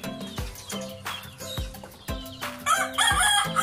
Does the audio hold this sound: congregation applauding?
no